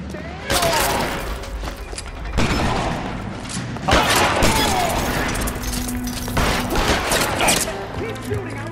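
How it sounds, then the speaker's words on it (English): Gunfire from a shootout in the L.A. Noire video game rings out in loud, dense volleys of repeated shots and impacts, with voices shouting between the bursts. "Keep shooting. I want him dead."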